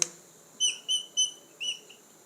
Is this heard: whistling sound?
yes